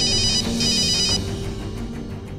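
An electronic telephone ringtone trills close and fairly loud in a quiet room late at night, a repeating chirping pattern that carries for a couple of seconds with no talk over it.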